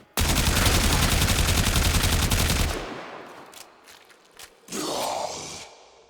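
Rapid automatic gunfire from a weapon in the Warframe video game, a loud dense burst lasting about two and a half seconds, then scattered quieter impacts and a brief second burst.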